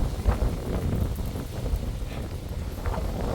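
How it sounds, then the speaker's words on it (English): Steady low rumble of strong wind buffeting the microphone in Kelowna, British Columbia, with gusty thumps throughout and no voices. "It's really windy over here in Kelowna, BC already."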